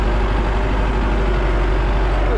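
MTZ 82 tractor chisel plowing hayfield and virgin sod at around 1500 rpm, its diesel engine droning loud and steady with a deep low rumble throughout, no talk.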